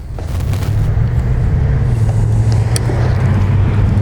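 A Harley-Davidson Street Glide FLHX with 28,225 miles idling close by, a loud, deep, steady engine rumble that holds without a break.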